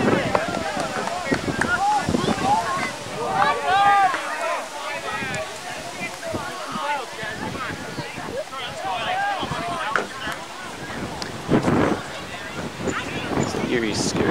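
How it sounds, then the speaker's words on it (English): Strong gusting wind during a cold front in Jordan, Minnesota, roaring against the microphone almost without pause, with a person speaking through the buffeting. "It's very windy."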